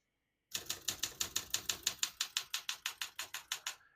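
Keys strike steadily on a 1966 Olympia SM9 portable manual typewriter, a brisk, even run of about twenty sharp mechanical clacks, close and clear, beginning after a brief silence with no one speaking.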